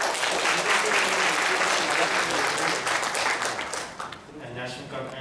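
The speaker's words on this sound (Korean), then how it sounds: "박수로 맞이해주세요" Audience applause welcoming a speaker to the stage at a company workshop, a thick wash of clapping that holds strong, then thins and fades toward the end as the room settles.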